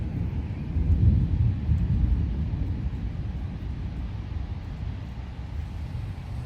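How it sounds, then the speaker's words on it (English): Low, rolling thunder during a severe thunderstorm with strong wind gusts in Frisco, Texas, a distant rumble that swells after a second and then fades into a steady low wash of wind, no talking. "Here goes the thunder."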